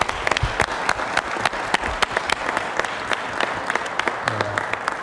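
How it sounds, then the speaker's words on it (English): A small group at a city council meeting claps for Eagle Scouts, sparse individual hand claps rising above a thin, uneven patter for about five seconds, fairly quiet. "Let's give a round of applause."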